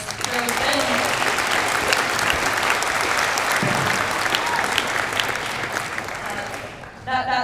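Audience applause at a talk on a Christian school's stand on girls' sports, dense, steady clapping filling the whole stretch before thinning near the end.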